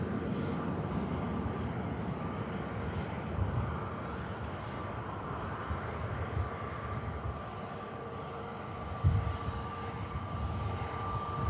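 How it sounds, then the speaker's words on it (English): An EgyptAir Airbus A321neo at Manchester Airport makes a steady, muted engine roar with a faint tonal whine, heard from a distance at low level. "Egypt Air. Airbus A321neo."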